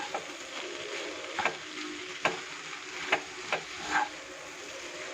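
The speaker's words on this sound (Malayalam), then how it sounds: "നന്നായിട്ട് ഇളക്കുമ്പോൾ ശ്രദ്ധിച്ചാൽ മതി. നല്ല ഇങ്ങനെ ഇളക്കണം 2 കൈ കൊണ്ടും." Cooked vegetable noodles stirred in a frying pan over a soft continuous sizzle, with a few light tapping scrapes of the utensil at irregular intervals, close and quiet.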